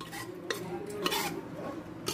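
A ladle mashes cooked dal inside a pressure cooker, soft squelching and scraping with a few light metallic knocks against the pot, quiet and close, no voices.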